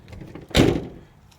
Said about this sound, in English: the door doesn't sag, it shuts